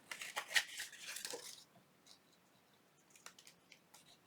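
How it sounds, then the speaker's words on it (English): Scissors trim window envelope paper in a quick series of close, crisp snips over about a second and a half, then a few faint, sparse cuts and paper handling sounds in a quiet room. "Now, we're going to just trim it."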